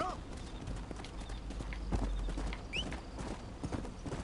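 Horse hooves clip-clop steadily in the Western video game Red Dead Redemption, a run of close, even hoof knocks at walking pace over a faint outdoor background, with no talk.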